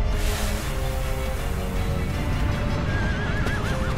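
A horse in the Shadow of the Colossus video game gives a loud, wavering whinny near the end, over a dense, steady game soundscape.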